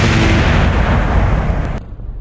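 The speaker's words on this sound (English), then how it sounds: "Damn, those were loud explosions." Loud, continuous rumbling blasts of explosions in Kerbal Space Program fill the clip, dense and booming, then cut off abruptly near the end, leaving a quieter tail.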